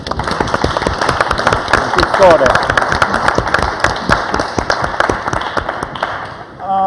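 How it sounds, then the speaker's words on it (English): Audience applause at the close of a panel debate on sustainable foods, a dense steady wash of many hands clapping throughout, with a voice briefly speaking over it near the start. "a big round of applause to Eva"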